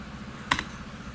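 A single sharp keypress on a computer keyboard, like hitting Enter, clicks once against a quiet background hum, with no voices.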